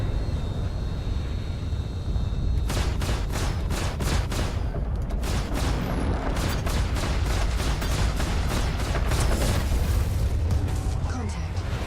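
A rapid, steady stream of spaceship gunfire in Star Citizen's Arena Commander, dense repeated shots running for several seconds over a constant low engine rumble.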